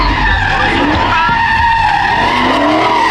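A car skidding and sliding out, a loud continuous tire squeal and engine roar heard close, with shifting screeching tones throughout.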